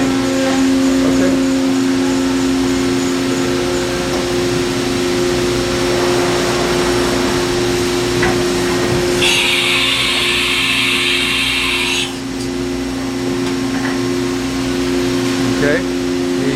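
Haas VF-2 CNC vertical mill running with a steady mechanical hum and high whine, a brighter hissing burst partway through marking the tool change, with people talking over the machine noise.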